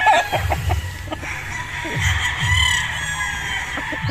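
Chickens cluck and call repeatedly at close range, with a rooster crowing among a flock of gamecock stags against constant background chatter.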